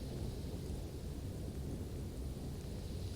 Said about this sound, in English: Uncle Henry and Dorothy could see where the long grass bowed in waves before the coming storm